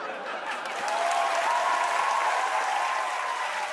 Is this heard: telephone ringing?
no